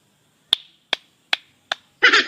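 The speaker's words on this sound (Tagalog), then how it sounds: "Palakpak!" Four sharp, evenly spaced hand claps ring out close and crisp in near silence, followed by a sudden louder burst of broadband noise at the very end.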